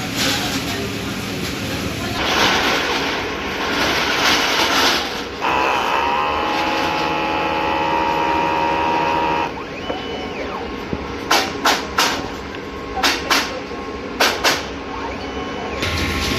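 A DTF printer runs a head cleaning cycle with a steady mechanical whir and a pumping hum. Sharp clicks and short bursts follow near the end. The sound is close and moderately loud, with background noise throughout.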